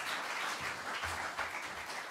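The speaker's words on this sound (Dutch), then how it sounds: "Mag ik een hartelijk applaus voor deze twee heren en voor de jury." An audience at a local-politics event gives warm applause for two men and the jury, a soft, dense wash of many hands clapping heard from a distance, fairly faint and continuous without distinct single claps.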